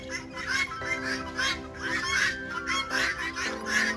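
A peacock calls in a series of loud, nasal, honking wails that rise and break off, repeating several times close by with no talk over them.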